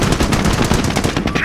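Sustained machine gun fire from the World War II video game Company of Heroes, a loud, continuous rattling burst of rapid shots lasting the whole moment with no pauses.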